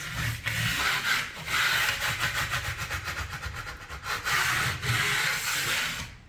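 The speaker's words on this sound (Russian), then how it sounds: "С помощью кельмы можно вот так кельму взять, вот таким образом, и счистить острые края, если они есть." A steel trowel scrapes sharp edges off a decorative plaster wall in a series of rough, gritty strokes, each a few seconds long with short pauses between them, close and moderately loud.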